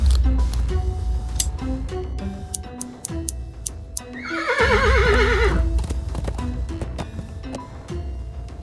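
A horse whinnies loudly and shakily in the Willy Morgan and the Curse of Bone Town video game, with soft hoof clops and plucked game music before and after.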